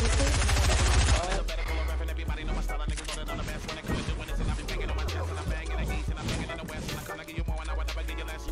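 Rapid SMG bursts crackle in a Fortnite-style shooter, dense repeated shots running through the whole stretch, loud and close amid other game noise.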